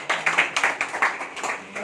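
An audience claps in a room, a short run of fairly close, irregular hand claps from a small group, bright and lively, tapering off slightly toward the end.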